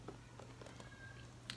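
A pet house cat gives a faint, short meow-like cry in the background of a quiet room, a thin wavering call under low hum and a few soft knocks.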